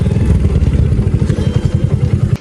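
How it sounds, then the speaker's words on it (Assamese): A motorcycle idles close by as it is brought into parking near a temple, its engine a loud, steady low thumping pulse with a sharp click right at the end. "বাইকখন এতিয়া আমি পাৰ্কিঙত থৈ দিওঁ"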